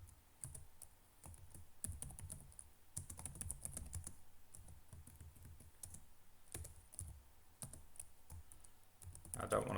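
Fingers typing on a computer keyboard, irregular bursts of close key clicks across the whole stretch, with quiet breathing or faint voice in the background.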